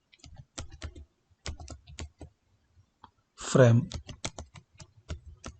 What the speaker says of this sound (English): Now type enable.